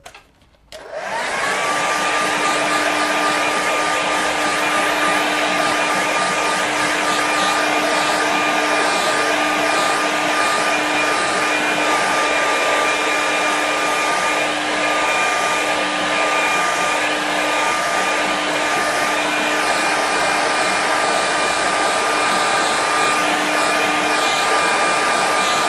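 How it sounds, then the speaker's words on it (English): A handheld hair dryer blows steadily on a watercolour painting of Loch Fannich, a loud, close, unbroken whir with a constant tone that runs alone for about twenty-five seconds after a brief click on. "Give that a quick dry."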